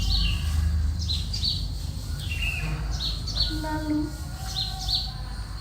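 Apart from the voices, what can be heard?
birds chirping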